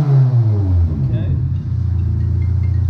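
A Chevrolet Impala SS idles with a deep, loud exhaust rumble, a rev dropping away early before settling into a steady throbbing idle close by; people talk nearby.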